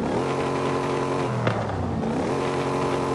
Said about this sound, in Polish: Mamy tutaj potężny silnik, więc jak widzicie, za każdym razem jak sobie tutaj gazuję, to cały samochód nam się tutaj rusza